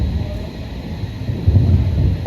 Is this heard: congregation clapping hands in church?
no